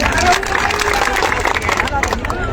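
A dense crowd at an outdoor protest march breaks into applause, scattered claps blending with a steady hubbub of many voices and chatter close around.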